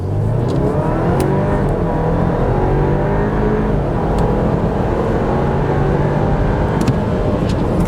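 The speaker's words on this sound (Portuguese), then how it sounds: "Hora da gente fazer aqui o nosso teste de 0 a 100 com o Q5, primeiro no modo normal" Audi Q5 S line (2022) accelerating hard from a standstill to 100 km/h in normal mode, a loud, steady engine drone with road and wind roar filling the whole stretch, heard from inside the car.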